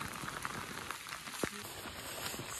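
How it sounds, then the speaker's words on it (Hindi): Steady rain in Darjeeling patters densely on a surface close by, a continuous hiss with scattered sharper drops and no voices. "बारिश पड़ रही है फोन पूरा गीला हो चुका है"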